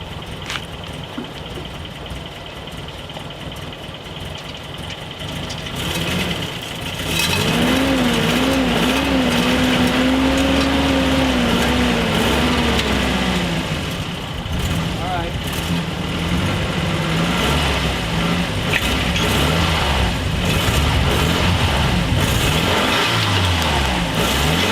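Nissan 720 Datsun pickup truck engine running smoothly and quietly, a steady low idle that rises to a fuller, even hum after a few seconds, heard close with a person talking over it.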